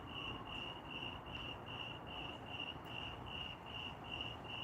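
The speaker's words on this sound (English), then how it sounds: "Got very loud crickets in the yard tonight." Crickets in a yard chirp in a steady, rapid pulsing trill, loud and close against a quiet outdoor night background, with no voices.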